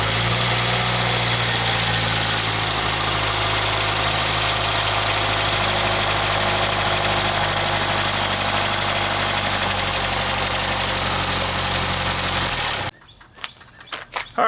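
A Jeep engine idles loudly and continuously after an alternator and idler pulley install, with a faint rhythmic ticking in the running noise, then cuts abruptly near the end.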